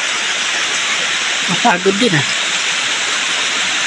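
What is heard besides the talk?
river water flowing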